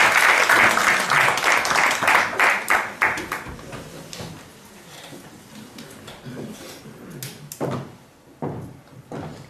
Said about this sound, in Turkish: O zaman alkışlarımızı da Server'e alalım.